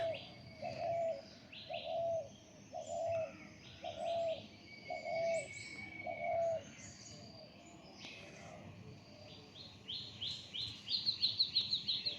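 A spotted dove gives about six evenly spaced low coos, then falls quiet as other birds carry on with bright chirps and a rapid twittering burst toward the end.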